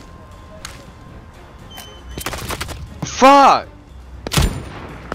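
Gunfire in the video game Zero Hour, a few sharp, fairly loud shots spread out, mixed with a shouted voice and game sounds.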